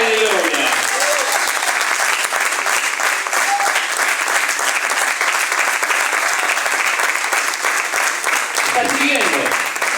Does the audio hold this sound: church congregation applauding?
yes